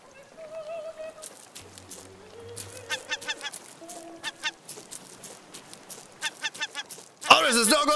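Seagulls squawk and honk in the survival video game Raft, a series of harsh repeated calls under game sounds and voices, ending in a burst of loud noise.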